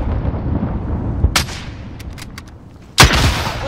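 Rocket launches in the video game Call of Duty Modern Warfare: two sharp loud blasts a second and a half apart, each leaving a roaring rush, with a few brief crackling pops between over a low rumbling background.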